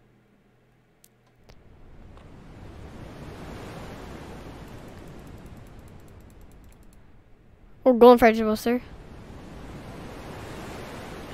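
Massive ocean waves in the video game FNAF Park of Horror make a low, steady rushing wash that swells and recedes in long surges, with a short burst of talk in the middle.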